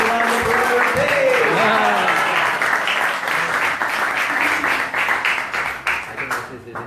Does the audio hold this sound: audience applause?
yes